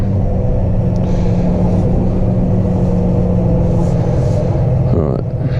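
A John Deere 6215R Command Pro tractor engine drones in a steady, loud, low rumble while the tractor is driven, with faint clicks near the end.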